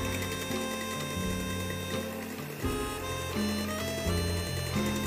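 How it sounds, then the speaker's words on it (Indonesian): Handheld electric mixer whisking egg whites in a bowl, a steady, close mechanical whir with harmonic hum that runs continuously and shifts slightly in pitch partway through. "Aku lebih suka menggunakan hand mixer untuk pengocokan putih telur karena lebih gampang untuk mengontrolnya"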